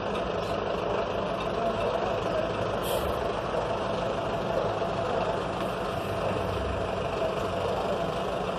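Yellow recycling truck reversing in a street, a steady engine rumble with a faint high beep and a brief hiss of air brake, heard from nearby.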